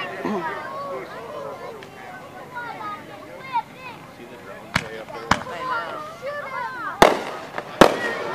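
Fireworks exploding at the Jets over Kentucky 2016 show, with several sharp, loud bangs in the second half over continuous crowd chatter and exclamations.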